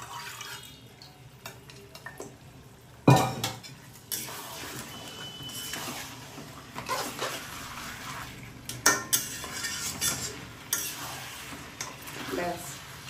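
Pressure-cooked mutton, drained of its cooking water, is tipped into a wok with a clatter and stirred, metal scraping and wet clanks in an uneven run, close up.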